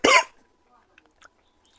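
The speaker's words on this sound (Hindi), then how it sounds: "सॉरी थोड़ा खांसी हो गया।" A single short, loud cough at the start of the clip during a Hindi lesson on previous-year exam questions, followed by near silence with only a few faint clicks.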